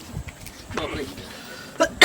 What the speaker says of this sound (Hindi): साला खांसी भी होने लगा